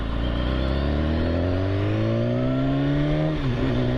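A 2015 BMW S1000RR sport motorcycle at full throttle, its engine note climbing steadily and loudly through the gears, with a brief dip near the end at a shift before it pulls on again.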